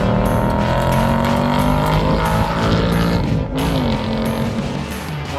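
Race car engine circling a track on light throttle, a steady droning roar with shifting pitch throughout, close and loud with no speech.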